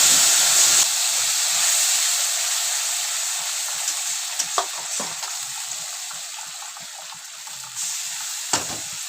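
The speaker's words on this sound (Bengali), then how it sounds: "আমি 2-3 মিনিট ভালো করে কষে নেব" Ground tomato-onion paste hits hot oil tempered with garam masala, bay leaves and dried red chili, bursting into a loud hiss that slowly settles into a steadier sizzle with a few sharp spoon knocks.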